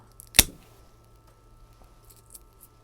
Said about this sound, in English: I'm just going to go right above here, like that, and then cut it back to here.